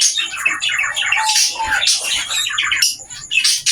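Society finches in a breeding cage give a dense stream of chattering, squeaky calls, close and fairly loud, overlapping continuously throughout.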